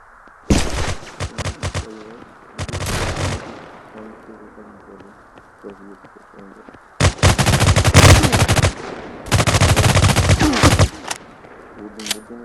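Bursts of automatic gunfire in a realistic shooting video game, several loud volleys separated by quieter stretches where someone talks over the background.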